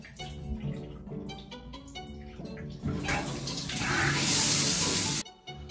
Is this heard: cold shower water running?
yes